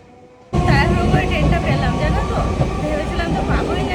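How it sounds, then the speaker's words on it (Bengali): A train rolling into a station, a steady loud rumble that starts abruptly and carries on with wheel and carriage noise, with voices mixed in over it. "মাইজরা স্টেশনে আসতে না আসতে ট্রেনটা ঢুকে গেল"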